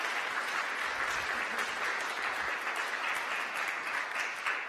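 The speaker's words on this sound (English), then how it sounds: "please give him another round of applause" An audience at a talk on Turkish identity gives a speaker a round of applause: steady, even clapping from a seated crowd, heard from a distance and fairly quiet throughout.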